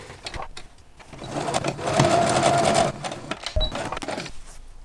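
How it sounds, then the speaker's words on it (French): Sewing machine stitching a blouse seam with a backstitch, a steady mechanical whir running continuously at close range and swelling louder through the middle. "je vais commencer à coudre ici"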